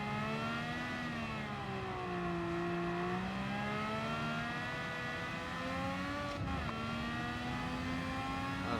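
A Honda RA272 Formula One race car engine screams at high revs in Gran Turismo 7, rising and falling in pitch as it accelerates through sweeping corners. It stays steady and continuous with no talk over it.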